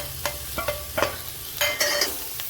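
A spoon stirs mashed boiled potato filling with turmeric and coriander in a pan, giving a run of distinct clinks and scrapes against metal over a soft sizzle, close and fairly loud.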